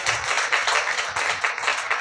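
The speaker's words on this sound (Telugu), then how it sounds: "గట్టిగా చప్పట్లు కొడతారా యేసయ్యకి?" A church congregation claps loudly and rhythmically in praise of Jesus, a steady beat of many hands close by, with no talking.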